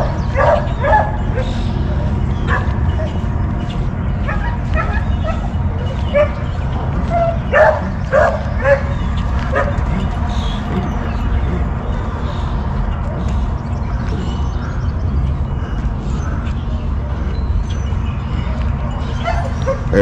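Five-month-old rabbit dog puppies bark and yip continuously at close range over a steady noisy background, with excited whimpers mixed in.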